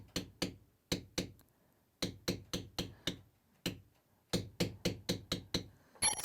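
Mallet blows drive a bevel tool into a leather belt, landing as sharp, close knocks in quick runs of two to five strikes separated by short pauses, with no talk over them.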